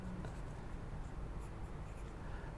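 Pencil or pen scratching pattern notes onto paper for a six-panel skirt pattern, a close continuous scribbling texture throughout with no voices.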